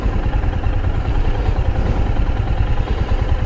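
A heavy motorcycle engine idles steadily and close by, a low, even rumble that carries through the whole stretch with no voices over it.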